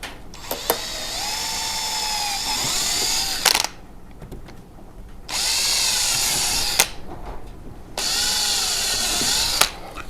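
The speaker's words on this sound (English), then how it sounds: "drill yourself some pilot holes" A handheld power drill boring pilot holes while fitting intake grill covers on a Polaris RZR Pro R, three loud whining bursts of several seconds each at close range, separated by short quiet gaps and clicks.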